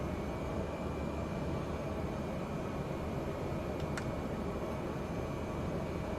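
Cessna Caravan turboprop in Flight Simulator 2020 with the prop fully forward on the runway gives a loud, unbroken broadband roar with a faint steady whine, close and even throughout, broken once by a brief click.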